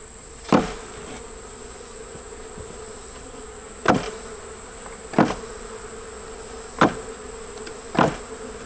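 Honeybees buzz around a hive entrance as they bring pollen in, a steady insect drone with a few sharper, louder bursts as individual bees pass close.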